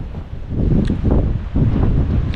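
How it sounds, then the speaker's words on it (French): A strong south wind buffets the microphone with loud, low rumbling gusts in repeated surges, heard outdoors on a farm during a maize grain harvest in stormy weather. "Ah si, c'est le vent du sud."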